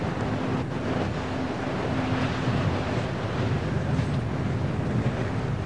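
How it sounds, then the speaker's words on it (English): Steady wind gusts across an open golf course, a constant low rushing roar rumbling into the microphone with no voices and no letup. "the wind has become such a factor putting"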